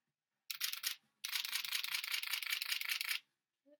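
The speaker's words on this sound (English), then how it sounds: "That's what the shutter sounds like." Camera shutter firing up close: a short burst of rapid mechanical clicks, a brief pause, then a longer rattling run of fast shutter clicks, with quiet surroundings.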